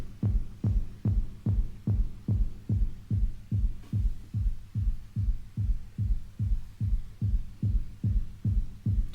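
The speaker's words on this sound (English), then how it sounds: "So you've actually got some nice basses there." A synth bass with reverb and filter repeats one deep, punchy note in an even pulse of about two hits per second, each thump decaying quickly into a faint tail, loud and alone.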